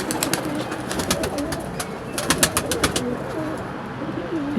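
Pigeons coo repeatedly in a pigeon-keeping setting, several birds murmuring in overlapping low calls alongside sharp bursts of wing or cage noise, steady and fairly close.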